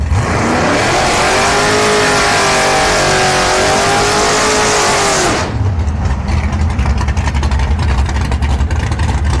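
A K Series turbo drag racing car at Orlando Speed World roars at full throttle, its loud engine note climbing steadily for about five seconds before cutting off abruptly into a rumbling track-side background.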